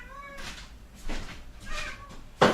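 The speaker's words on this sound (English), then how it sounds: "What do you want, cat?" A house cat meows several times in short, rising calls spaced across a couple of seconds, fairly close, with a louder sharp sound at the end and no talking.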